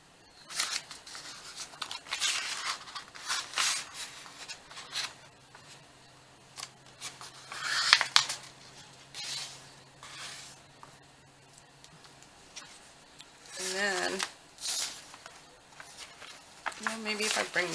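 A sheet of paper is folded into triple pockets, giving close, crisp rustles and creasing crackles in short bursts. A voice talks intermittently between them.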